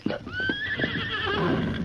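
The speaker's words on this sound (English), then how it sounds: "Meekin brought Tonto's horse to town with us." A horse in a Lone Ranger radio drama lets out a loud, close whinny with a rising then wavering pitch that lasts nearly two seconds, with faint hoof clops at the start.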